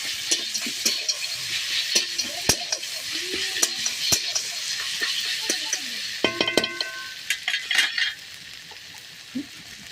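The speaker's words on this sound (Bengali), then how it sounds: "এরপরে দিয়ে দেব 1 চামচ জিরে বাটা, দিয়ে নেড়ে নেব।" Cumin paste being stirred in a frying pan of hot oil, a soft sizzle under repeated sharp scrapes and clinks of the spoon against the pan, close and uneven.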